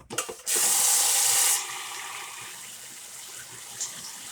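Rice is rinsed in a pot under a running kitchen tap: a loud, steady gush of water for about a second, then softer wet swishing and sloshing as the grains are stirred by hand.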